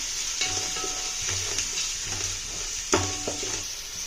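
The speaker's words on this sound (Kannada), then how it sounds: "3 ಆನಿಯನ್ಸ್ ಹಾಕೊಂಡಿದ್ದೀನಿ ನಾನು. ಅದನ್ನು ಫ್ರೈ ಮಾಡ್ಕೊತೀನಿ." Three onions frying in a pan for a shrimp biryani, giving a steady sizzle with repeated scraping stir strokes, heard close and without talk.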